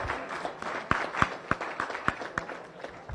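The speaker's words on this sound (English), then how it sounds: "Give them a round of applause." Guests at a Rotary Club meeting held at a private home give a small round of applause, a handful of distinct, sharp claps spaced out at an even pace over a soft room background.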